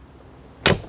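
A Mercedes G63 door is slammed shut with a single sharp, heavy thud after a quiet moment.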